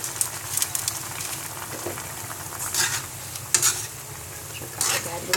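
Pepper and seasoning are stirred into a pork dish in a pot. A few separate scraping stirs come at intervals over a low, steady simmering hiss, close by and moderately quiet.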